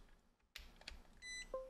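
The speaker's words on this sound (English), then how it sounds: "It's going to keep beeping like that." A faint Hobbymate D6 Duo Pro RC charger gives a couple of short, high-pitched beeps after a soft click during a firmware update, quiet and close.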